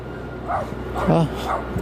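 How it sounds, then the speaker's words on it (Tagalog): Several short dog barks and yips come in bursts over a steady background hum, fairly close by, with a pause between each, outdoors in cold, snowy weather. "ang ingay niyang aso, di takot sa lamig nasa labas sa mga aso nila"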